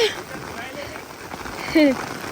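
Continuous hiss of rain falling on surfaces, with a brief voice sound near the end.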